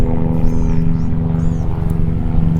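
A helicopter flying overhead, a loud steady droning rotor hum that fills the whole stretch with no pause and no talking.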